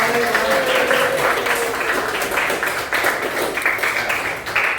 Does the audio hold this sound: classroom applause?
yes